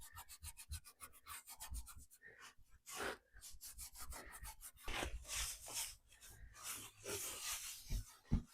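Fusion aging wax being rubbed into the carved crevices and detailed areas of a thrifted piece of furniture, giving a close, dry scrubbing and brushing sound in quick repeated strokes with short pauses.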